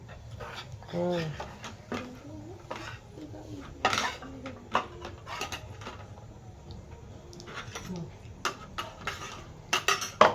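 Plates and cutlery clink and clatter as food is served at a home meal. Intermittent close knocks and scrapes come through over people talking, with a dog panting nearby.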